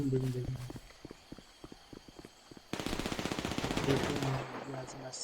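Gunfire from a GTA roleplay video game, with rapid bursts of shots crackling in quick succession after a few sharp single reports, fairly loud over game sounds.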